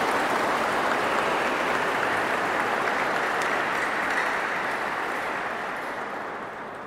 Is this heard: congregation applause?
yes